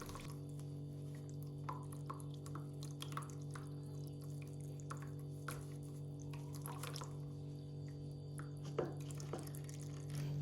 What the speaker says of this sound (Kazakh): Енді артық суын осылай сығыңқырап шығамыз.